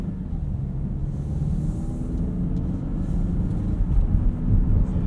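A 2018 Mazda CX-9 Signature rolls over rough road, a steady low rumble of tires and suspension filling the cabin, loud and continuous with slight swells toward the end.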